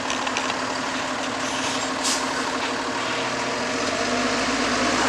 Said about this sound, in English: The paramedics and the fire truck are taking off now.